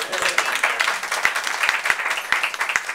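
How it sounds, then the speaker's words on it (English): Scattered clapping from an audience at a charity animal walk event, a loose patter of individual hand claps that is moderately loud and uneven. "I think we should all give them a round of applause"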